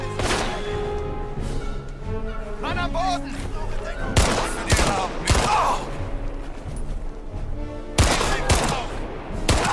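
Gunshots ring out in the video game Indiana Jones: The Great Circle, sharp loud cracks in scattered bursts over a running game soundtrack, with a player talking between some of the shots.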